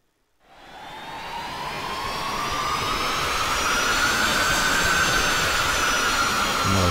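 A video-game spaceship engine effect rises from silence into a sustained, whooshing jet-like roar with a tonal whine that slowly climbs in pitch and holds steady, loud and close.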